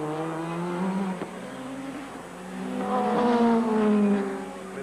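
Group C sports prototypes, including a TWR Jaguar XJR11, race at the Fuji circuit in 1991. Engine notes drone and shift in pitch as the cars pass at a distance, with the sound rising in the second half. No one talks.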